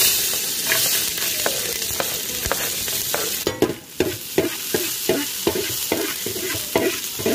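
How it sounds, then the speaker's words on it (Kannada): Chopped ginger and garlic frying in oil in a pan, with a steady loud sizzle and regular scraping stir strokes repeating throughout, no voices. "ಇದಕ್ಕೆ ಸ್ವಲ್ಪ ಹಚ್ಚಿದ ಶುಂಠಿ ಮತ್ತು ಬೆಳ್ಳುಳ್ಳಿ ಪೀಸ್ನ ಹಾಕ್ತೇನೆ."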